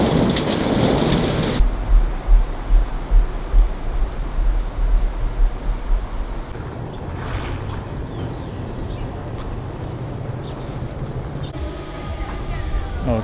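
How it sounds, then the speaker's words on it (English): Heavy storm rain pours steadily in a dense roar, with deep rumbles of thunder rolling underneath during the first half. "Outside is very stormy"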